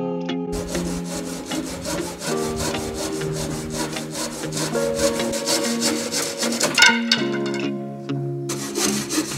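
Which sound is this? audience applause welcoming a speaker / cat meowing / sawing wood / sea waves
sawing wood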